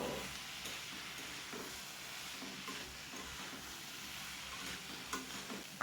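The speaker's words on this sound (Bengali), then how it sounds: "দিয়ে দিলাম কেটে রাখা থোড় আর দিলাম চেরা কাঁচা লঙ্কা সবগুলোকে একসাথে ভেজে নেব তিন থেকে চার মিনিট" Chopped banana stem and slit green chilies fry together in a pan, giving a quiet, steady sizzle broken by occasional stirring scrapes, with no voices.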